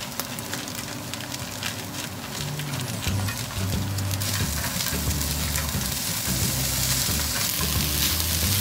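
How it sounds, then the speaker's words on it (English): Mixed vegetables, shallots and edamame fry in a pan for egg fried rice, giving a steady, close sizzle with stirring scrapes throughout, no voices. "Just want to make sure you brown the shallots a little bit, and we should be able to start adding our egg."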